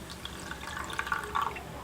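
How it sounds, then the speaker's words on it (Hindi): Water trickles and splashes as it is poured into a bowl of poppy seeds soaking for a summer sardai drink, a close, steady pour lasting under two seconds. "और खसखास में भी हम पानी शामिल कर लेंगे।"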